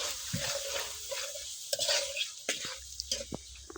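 Tengra fish frying and being stirred in a pan over a clay stove, with a steady sizzle broken by scraping utensil strokes and a few sharper knocks, close and moderately loud.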